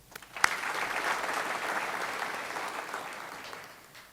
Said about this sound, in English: Feel free to applaud after each name is called